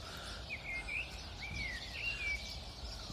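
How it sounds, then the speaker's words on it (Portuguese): A common blackbird sings outdoors in the morning, with several clear, fluting phrases rising and falling one after another over a steady bed of low background noise. "Estava ali um melro a cantar"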